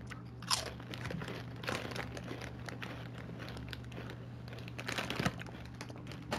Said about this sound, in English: That crunch is good.